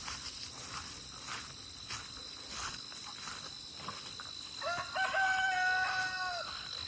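Turkeys raised for meat on a small farm call out partway through, a clear rising gobble-like tone standing out over steady outdoor background with insects or birds, fairly close and moderately loud.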